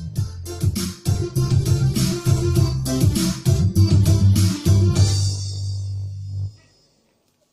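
Music plays through an Ashley YM400P passive speaker with its low frequencies turned down, a loud, close song with strong rhythmic bass notes that cuts off near the end, leaving brief silence.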